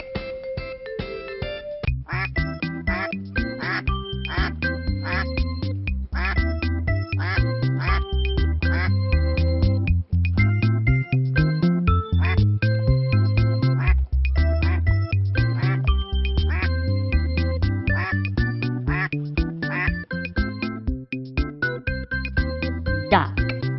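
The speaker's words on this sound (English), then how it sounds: "Duck." Cartoonish duck quacks repeat in a bouncy rhythm, set within a cheerful children's farm-animal song with steady music throughout.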